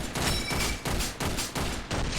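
Rapid bursts of gunfire from the top-down shooter OTXO, loud and continuous with repeated volleys and brief gaps, dense and close with no talking.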